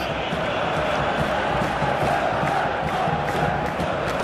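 A large video game stadium crowd in PES 2021 during a Galatasaray versus Fenerbahce match roars and applauds steadily, a dense wash of cheering noise that stays loud throughout with no pauses.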